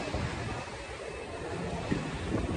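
Sea waves wash along the Fortaleza beachfront in Brazil, a steady broadband surf with gusting wind noise on the microphone, fairly even and moderately loud, with no one speaking.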